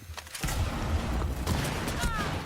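Gunfire erupts in the tactical shooter game Rainbow Six Siege: a dense burst of rapid shots and impacts that runs almost continuously through the moment, loud and close.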